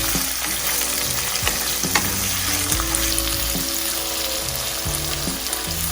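Sliced onions tipped into hot oil with sesame seeds and garlic for honey chilli potatoes, giving a loud, steady sizzle with stirring scrapes and a low tonal hum underneath, no voices.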